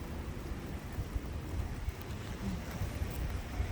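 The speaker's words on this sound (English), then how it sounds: "So it's really super windy, guys. Super windy in here" A steady, strong wind roars and buffets the microphone in a garden in early spring, a dense rumbling rush with small gusty surges and no other clear sounds.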